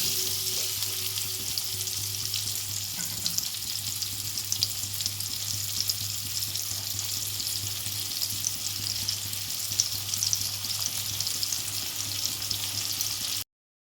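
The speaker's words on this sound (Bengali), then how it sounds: "আলুগুলো আমি লাল লাল করে ভেজে নেব" Potato pieces with salt and turmeric fry in oil, giving a continuous close, even sizzle and crackle that runs unbroken for about fourteen seconds with no talking.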